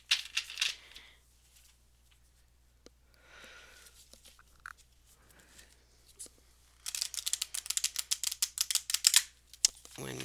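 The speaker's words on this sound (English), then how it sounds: "One more good shuffle." Cards are handled and riffled close by: soft rustling at first, then a rapid, crisp burst of flicking as a deck is shuffled.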